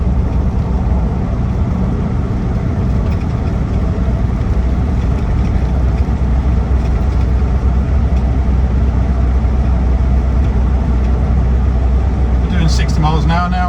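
A Land Rover Defender 90 TDCi XS station wagon with an automatic gearbox drones steadily while cruising near 2,000 RPM, a constant low engine and road hum from inside the cabin, with a voice talking over it.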